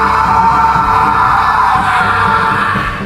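Three people screaming in fear in a horror story, a loud, sustained chorus of overlapping yells that stays intense throughout.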